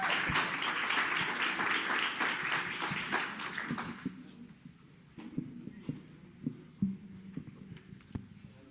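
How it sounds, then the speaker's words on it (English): An audience at a summit applauds after a presentation, several seconds of dense clapping that fades into a few scattered claps and quiet room noise. "Thank you. Applause."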